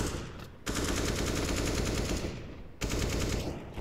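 Rapid, continuous gunfire from a CS:GO professional match on the Vertigo map, meant to be AWP sniper rifle shots; loud dense bursts fill most of the clip, broken by two brief near-silent gaps.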